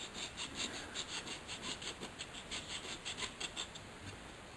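A jeweler works a piece by hand with a file, making quiet, rhythmic rasping strokes, about a dozen evenly spaced scrapes in a steady back-and-forth pattern with no talking.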